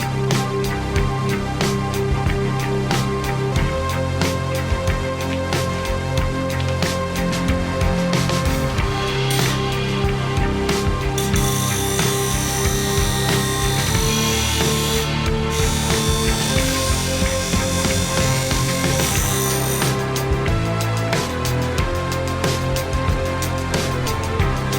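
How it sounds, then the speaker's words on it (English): A bench grinder shaves a few millimetres off a metal part in a shed, a loud continuous whine and grinding rasp that goes on throughout, with the pitch shifting as the metal is pressed to the wheel. "just going to use the bench grinder there and shave a few mil off"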